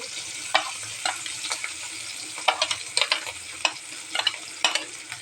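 Chopped green chillies and onions frying in oil in a pan, a bright continuous hiss of sizzling oil close by with frequent quick stirring clicks and scrapes scattered through it.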